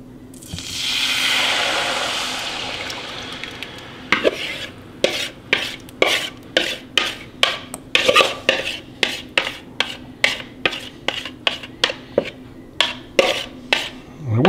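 Homemade enchilada sauce for Tex-Mex enchiladas pours into a hot skillet with a rushing hiss, then is stirred in a steady rhythm of about twenty close, scraping strokes against the pan.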